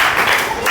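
Brief classroom applause for a student named Laxmi, a short burst of many hands clapping close by in a room, lasting under a second with faint voices mixed in.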